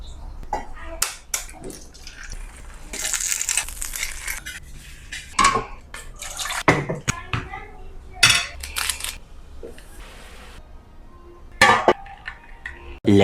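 Eggs frying in a pan in a home kitchen, with clinks and scrapes of utensils against cookware and bursts of sizzle, intermittent and close, with occasional sharp taps.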